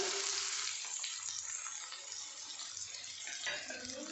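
Onions frying in hot oil in a pan for a Kunduru (parval) dish, a dense steady sizzle that is close and fairly loud, with faint background murmur and no clear speech.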